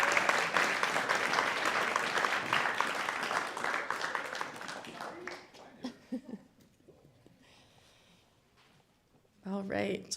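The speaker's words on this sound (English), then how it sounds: "if they want to give a round of applause to Marissa and Jim" An audience at a Guide Dogs for the Blind class graduation claps in a dense, steady burst of applause that tapers off halfway through, leaving scattered sounds and a voice starting to speak.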